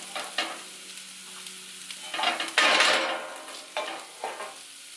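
Sausage meat sizzles in a pan for gravy while a tool stirs and scrapes it, giving a steady frying crackle broken by louder bursts of stirring, close and alone.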